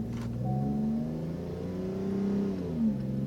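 A Ford F-150 pickup accelerates with quick throttle response and traction control on, its engine note steady and close, rising briefly as the truck shifts early, with no talk over it.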